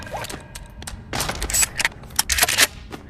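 A shotgun fires repeatedly at close range in the VR game Bonelab, sharp loud blasts in an irregular burst of shots with brief gaps, alone without voices.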